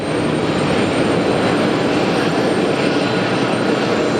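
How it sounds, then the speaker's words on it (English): A China Cargo jet airliner takes off at JFK airport, its engines giving a loud, steady, broadband roar that holds without a break and has no voices over it. "Alright, that counts as a takeoff."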